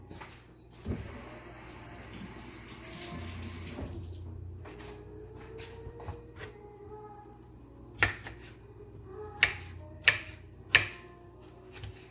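Tomatoes are rinsed under a running kitchen tap, giving a steady close hiss of flowing water with occasional splashes, followed by several sharp clinks and knocks as the produce is handled.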